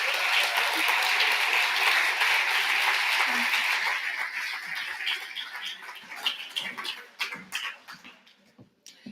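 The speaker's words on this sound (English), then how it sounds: "let's give a last big thank you and big applause to the last graduates today" Graduation ceremony audience in Barcelona applauding the 2021 and 2022 online master's graduates: dense, steady applause that thins out into scattered separate claps as it fades, with faint voices mixed in.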